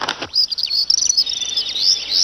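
A flock of birds perched in a large tree, dense high chirping and twittering that carries on continuously, bright and fairly close, after a brief rustle at the start.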